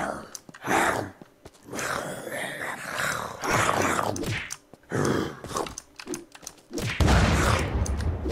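Bursts of AK rifle fire in the Unturned survival game on the Russia map, several loud volleys separated by brief pauses, with a final heavy burst near the end.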